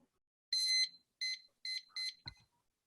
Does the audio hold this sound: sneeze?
no